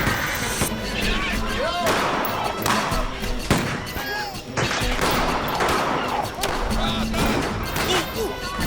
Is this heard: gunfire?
yes